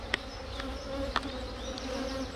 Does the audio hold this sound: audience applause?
no